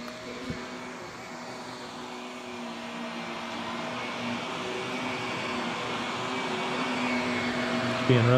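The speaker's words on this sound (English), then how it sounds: "He's got some vacuum in camera stuff." A vacuum cleaner runs in a home, a continuous steady whine and airy drone that slowly grows a little louder, with a brief knock near the end.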